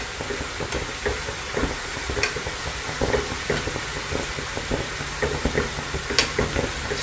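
Vada frying in hot oil gives a loud, continuous sizzle and bubbling, with occasional sharper crackles and soft scraping from stirring.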